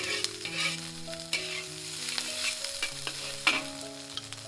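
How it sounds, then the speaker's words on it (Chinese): Tomato and egg fried rice is stir-fried in a wok, a steady hiss of sizzling with repeated sharp scrapes and clacks of the spatula, fairly quiet and with no talking. "放底回锅，稍微翻匀就行了，"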